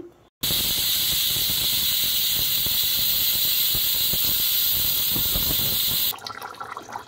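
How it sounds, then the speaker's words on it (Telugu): Loud, steady hiss of steam rushing from a pressure cooker as its whistle is removed during cooking of a brinjal mutton curry, starting abruptly and holding strong for several seconds before cutting off. "చూడండి ఫ్రెండ్స్, కుక్కర్ విజిల్ తీసిన తర్వాత మళ్ళీ ఉడికించుకుంటున్నాము."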